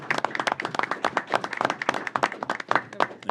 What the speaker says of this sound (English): They get a round of applause